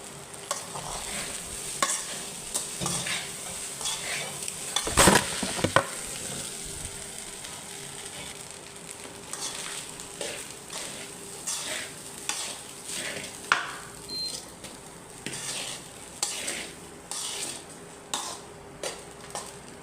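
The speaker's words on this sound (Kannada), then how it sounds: "ನಾನಿವಾಗ ಇಬ್ಬರಿಗಾಗುವಷ್ಟು ಅನ್ನ ಮಾಡ್ಕೊಂಡಿದ್ದೀನಿ, ಇದಕ್ಕೆ ಬೆರೆಸ್ತಾ ಇದ್ದೀನಿ" Cooked rice stirred into carrot masala in a pan, sounding as soft sizzling beneath repeated scraping and clinking of a spoon against the metal, with a sharp clatter early on and rhythmic stirring strokes toward the end.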